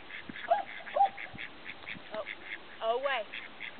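Ducks being herded by a dog quack repeatedly in short nasal bursts, mid-distance, while a handler calls out commands over steady outdoor background noise.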